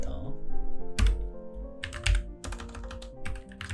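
Computer keyboard keys clatter up close as CAD commands are entered, in quick bursts of typing with short pauses between them. A voice talks quietly over the clicking.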